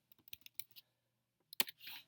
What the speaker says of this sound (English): Let me type this here.